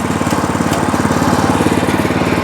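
A WEIMA WMX5 walk-behind tractor runs with its active rotary tiller turning, giving a loud, steady, close engine chug with an even rhythmic pulse and no talk.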